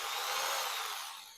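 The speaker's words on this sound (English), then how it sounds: "Upgraded to a proper drill with a flat chuck from Handy Coil Factory" An electric drill fitted with an all-metal flat chuck spins in a brief, airy high whir that fades away within about a second and a half, close by.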